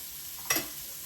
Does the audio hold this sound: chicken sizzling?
yes